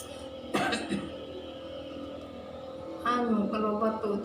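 Someone being treated for acute acid reflux and bronchitis during a reflexology session gives a couple of short, rough coughs, close to the microphone, in two bursts separated by a pause.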